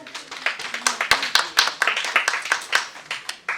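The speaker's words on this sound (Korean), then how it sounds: "박수 한번 보내주세요" Lecture attendees at a Confucian education institute clap together in lively, uneven bursts. Individual hand claps are distinct and close, as a small crowd cheers someone coming forward.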